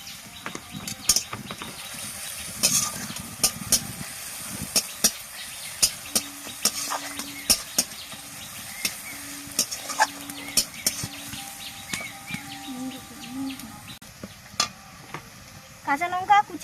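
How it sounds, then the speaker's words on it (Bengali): Crushed garlic frying with chopped onion in hot oil in a pan for a quick soybean bhujia, a steady close sizzle broken by frequent sharp clinks and scrapes of a stirring spoon, with no talk. "এবার থেঁতো করে রাখা রসুনটা দিয়ে দেব।"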